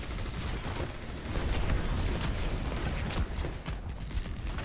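Rapid bursts of Soldier's gunfire from the Overwatch video game, a dense continuous rattle of shots running steadily throughout at fairly even loudness, with game effects mixed underneath.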